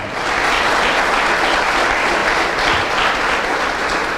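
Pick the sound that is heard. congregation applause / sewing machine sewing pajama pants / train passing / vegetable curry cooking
congregation applause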